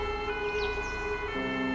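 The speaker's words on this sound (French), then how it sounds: "les sirènes des pompiers traversent Dourenbar" Fire brigade sirens passing through the village of Dourenbar in Alsace, a steady wailing tone with layered harmonic pitches that shifts to a lower note partway through, moderately loud and without speech.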